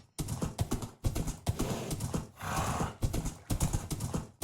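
Minecraft horse moving in a rapid, steady series of clip-clop hoofbeats, close and fairly loud, with a brief softer whooshing pause midway and no talking.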